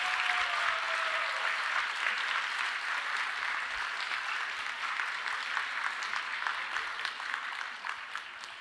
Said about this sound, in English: A huge round of applause again.